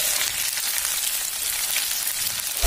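Onions fry in a hot kadai for brinjal pickle, giving a loud, continuous close-up sizzle with no break and no talk.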